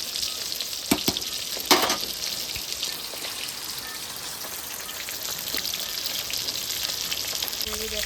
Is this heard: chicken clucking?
no